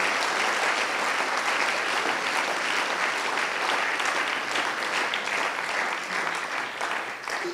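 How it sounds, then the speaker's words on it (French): Sustained audience applause at a political summer-university event, a dense steady clapping crowd filling the hall from start to finish and tapering slightly near the end. "vous pouvez les applaudir parce que c'est grâce à eux que cet événement a eu lieu."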